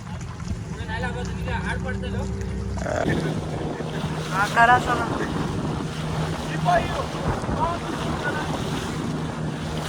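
Boat setting off on the sea near Vengurla on the Malvan coast, with steady engine rumble, waves and heavy wind buffeting the microphone, while people talk and call out over it.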